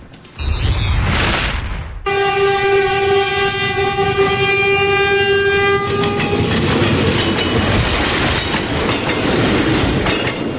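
A Philippine National Railways train passes close by, blasting a loud, sustained multi-tone horn for several seconds before the rumble and clatter of its wheels over the track carry on steadily.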